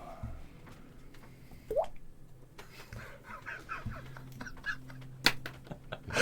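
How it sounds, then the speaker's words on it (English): Slow, cold water drips onto a hard stone floor in a dark, damp space, with sparse, irregular plinks and small splashes over a faint low hum. "Slow, cold dripping on hard stone floor."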